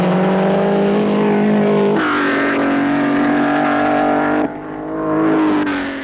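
Maserati and Alfa Romeo racing cars in a Grand Prix at Saint-Cloud, loud engines roaring and shifting pitch as they pass close by, one engine note dropping and another rising.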